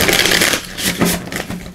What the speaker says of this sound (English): So let's give these a shuffle